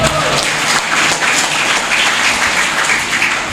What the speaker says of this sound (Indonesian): Kita berikan tepuk tangan pada Pak Jenderal.